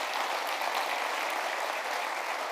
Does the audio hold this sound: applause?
yes